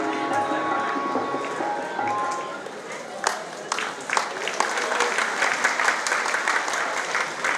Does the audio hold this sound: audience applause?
yes